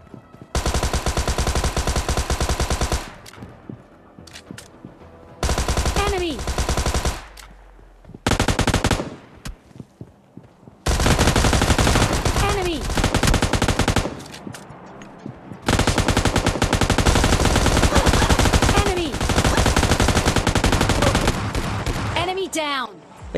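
Thompson submachine gun fire in a video game comes in long, loud, rapid automatic bursts separated by short pauses, repeating across the whole stretch.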